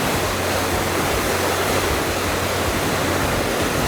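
Rough river water rushes loudly and continuously, a dense steady roar with no pauses and no voices.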